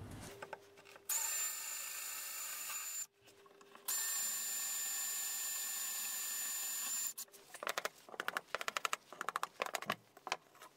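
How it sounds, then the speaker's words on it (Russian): A power drill bores into wooden dowels clamped tightly in planks, running at a steady high whine in two long bursts, then stopping for a stretch of scattered scraping and tapping. "сверлить в доминошках"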